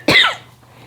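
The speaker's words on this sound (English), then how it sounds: "excuse me a sec, I got a cough coming." A single sharp, close cough bursts out once indoors, then fades quickly into quiet room hum.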